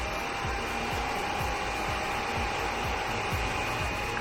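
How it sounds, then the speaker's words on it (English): Creality Ender 3 Pro 3D printer powering up, its fan giving a steady, even whir with a constant tone and faint low clicking underneath, close and continuous with no talk. "So now we turn on the printer."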